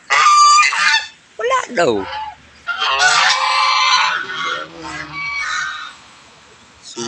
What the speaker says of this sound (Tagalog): Matatapang yung mga gansa namin dito